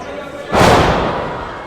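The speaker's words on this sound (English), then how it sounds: "Slams him down." A wrestler slams down onto the ring mat at a Coastal Championship Wrestling event, one heavy thud that echoes and fades through the arena. Crowd noise and commentary run underneath.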